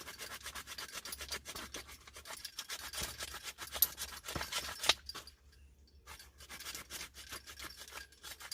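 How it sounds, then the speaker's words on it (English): A stone scraping bark off a thick piece of wood at a campfire site: steady, close rasping strokes that pause briefly near the middle and then resume, with no voices. "that stone to scrape the bark off some of this bigger bit"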